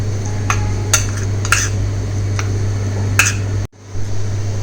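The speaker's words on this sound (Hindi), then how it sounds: "इसे अच्छी तरीके से आप स्मैश कर लीजिए।" A utensil mashes boiled egg yolk in a bowl, producing a few scattered soft clicks and scrapes against a steady low hum, which then cuts out briefly.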